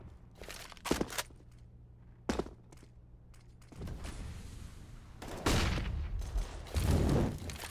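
Pistol shots in a CS:GO match on the map Mirage, a few sharp isolated cracks early, then denser overlapping fire and louder bursts, with no talk over it.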